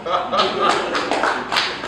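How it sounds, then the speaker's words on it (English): A fashion brand talk audience claps briefly on request, a short burst of hands clapping mixed with light chuckles and speech-like sounds, close and fairly loud. "Clap for me now."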